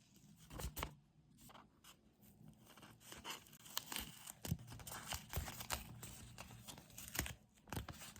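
Wrapping being torn open on a boxed package: close, busy crinkling and ripping in quick irregular bursts, with several sharp tears through the middle.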